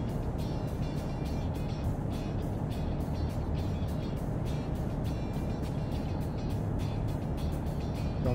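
A truck drives in American Truck Simulator: a steady, loud engine and road rumble runs throughout, with regular ticking pulses above it.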